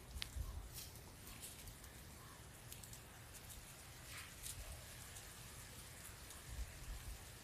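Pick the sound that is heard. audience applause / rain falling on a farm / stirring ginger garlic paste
rain falling on a farm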